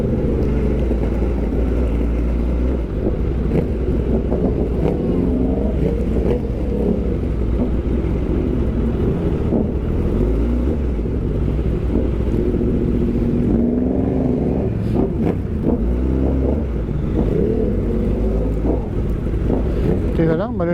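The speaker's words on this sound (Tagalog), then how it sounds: "Traffic." Road traffic with revving motorcycles rumbles loudly and continuously, engines surging and droning under heavy wind buffeting on the microphone, with faint voices mixed in.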